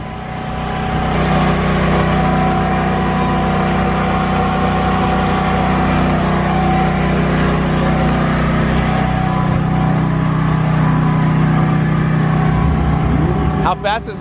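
A Nissan GTR's turbocharged engine runs at a steady, loud, close drone that holds throughout and cuts off abruptly near the end, with people talking over it.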